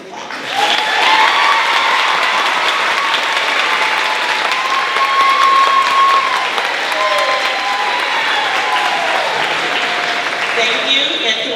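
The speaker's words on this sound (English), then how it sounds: "You may clap." Loud, dense applause at an elementary school fifth-grade moving-up ceremony, a large audience clapping continuously for several seconds with some voices and cheers mixed in.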